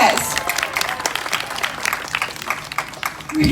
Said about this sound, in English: Can we give her another round of applause?